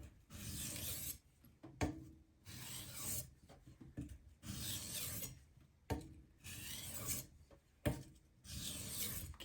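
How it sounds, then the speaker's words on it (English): Gyuto kitchen knife, a 210 mm Karaku AS, rasping across a whetstone in steady edge-leading back-and-forth strokes, about five bursts of grinding separated by short pauses, close and fairly quiet with no talking. "So I'm just going to go through a few edge leading back and forth passes."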